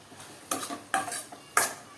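Chopped pointed gourd tipped into an onion-tomato masala in a pan and stirred, giving three distinct scraping, clattering strokes of a spoon against metal, close and fairly loud, with quiet pauses between them and no talk.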